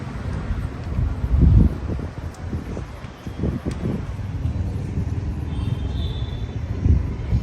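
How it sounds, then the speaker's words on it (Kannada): Wind blows outdoors at night beside a road lined with trees. Low rumbling gusts buffet the microphone in uneven surges, with no voices over them. "ಗಾಳಿ ಕೂಡ ಚೆನ್ನಾಗಿ ಬೀಸ್ತಿದೆ"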